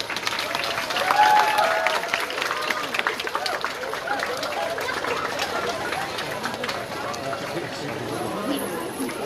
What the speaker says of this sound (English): a round of applause for sir, please